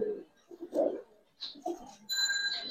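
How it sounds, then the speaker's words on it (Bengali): A Sapchila pigeon coos in soft, low bursts over the first second, followed by scattered quieter rustling and a thin, high-pitched steady tone near the end. "সাপচিলা কবুতর ভাই"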